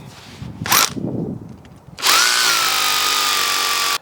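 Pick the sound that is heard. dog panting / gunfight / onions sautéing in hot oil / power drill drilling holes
power drill drilling holes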